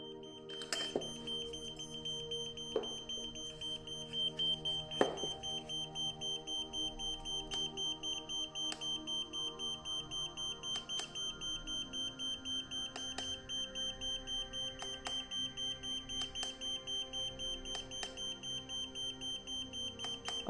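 A radiation detector's dose rate alarm beeps in a fast, steady rhythm, short repeated electronic tones continuing evenly and fairly quietly, with a few clicks near the start.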